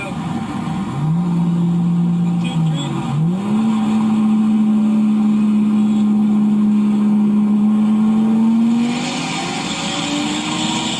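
Two cars racing side by side, one engine roaring loud and close, its pitch dipping at an early shift and then climbing steadily through a long pull before easing off near the end.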